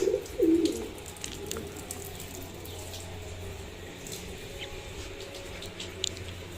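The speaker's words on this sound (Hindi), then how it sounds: "इस घर में कबूतर बहुत सारा है।" Pigeons in a house courtyard coo softly at the start, then fade into a steady background of running tap water.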